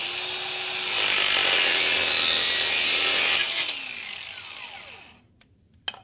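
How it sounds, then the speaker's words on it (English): A piece of copper pipe being cut off: a harsh, continuous rasping cut runs loud and close for several seconds, then winds down with a falling whine, ending in a sharp click. "And then you just cut it off."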